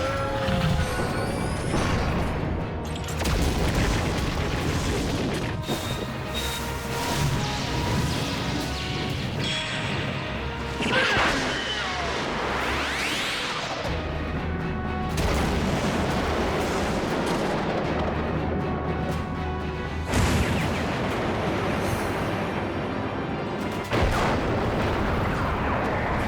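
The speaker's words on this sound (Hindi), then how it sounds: "all weapons fire" All weapons fire in an Ultraman Blazar battle against incoming thermobaric warheads, with repeated loud blasts, booming explosions and rattling gunfire layered over a dense musical score for a sustained stretch.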